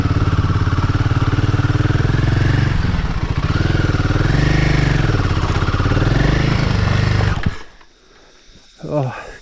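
A Royal Enfield Himalayan 450 motorcycle engine chugs steadily and loudly at close range on a steep, shaly, rocky climb by a downed tree. Its pitch wavers as the throttle rises and falls, then it cuts out abruptly, leaving a brief faint sound.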